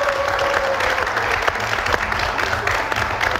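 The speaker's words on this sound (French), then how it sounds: "Merci de les applaudir" A studio audience on the Burkinabe TV show La Télé s'Amuz breaks into sustained applause after contestants take off their shoes, a thick, loud wash of clapping running throughout with a faint tone beneath.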